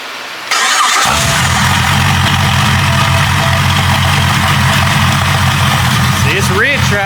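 A Jeep 5.0 stroker engine cranks over from cold and fires, then settles into a loud, steady, rich-running idle close by. Near the end a brief higher sweep rises over the engine.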